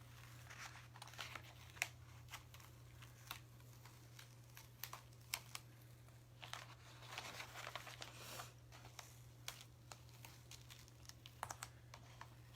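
White Oracle 651 vinyl is peeled off a canvas in soft, close crinkling and tearing bursts with small ticks and rustles over a faint steady hum.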